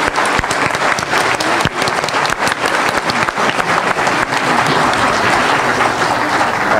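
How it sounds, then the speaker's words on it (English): Steady, dense applause from a church congregation fills the room, loud and continuous with no pauses, the clapping only slightly uneven in places. "let's give them another round of applause"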